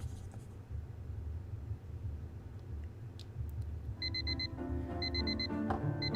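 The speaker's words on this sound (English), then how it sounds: "Thank God the alarm noise stopped." An alarm clock in a visual novel game starts ringing, rapid high double beeps repeating in bursts over a low steady hum, preceded by faint pencil scratching.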